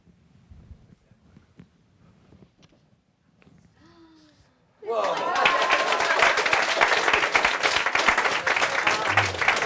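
Loud audience applause bursts in suddenly midway and continues steadily after a mentalism trick on stage, preceded by quiet murmuring and a brief voice.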